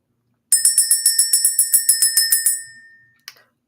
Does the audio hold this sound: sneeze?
no